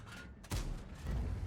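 A heavy tank cannon shot in World of Tanks, fired from a T110E5 at an enemy tank, lands as one sharp loud boom followed by a low rolling rumble.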